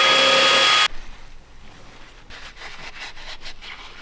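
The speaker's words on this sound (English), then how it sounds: "give that a little wire wheel" A wire wheel scours a part on a Land Rover Defender 110 in a loud, close, harsh whirring scrape lasting under a second, then cuts off, leaving faint rustling and light handling noises.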